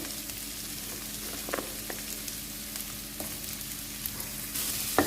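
Onion and garlic sautéing in a pan for palak sambar, a steady soft sizzle with occasional light stirring clicks, faint and continuous throughout.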